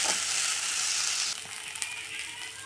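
Sweet corn frying in hot oil in a pan while being stirred, a steady close sizzle that eases slightly partway through, with a few scraping stir sounds; no talking.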